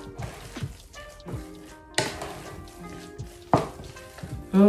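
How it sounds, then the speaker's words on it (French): A lentil mixture for lentil bites is stirred in a pan, with scraping and knocks of a utensil over a soft sizzle, and a few louder clunks and spits scattered across the moment. "Là, je vais venir mélanger le tout."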